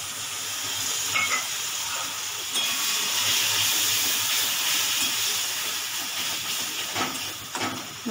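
Water poured onto cumin and chili powder frying in a pan for a fish curry gives a loud, steady steam-like hiss that runs unbroken for several seconds, with a few brief clinks.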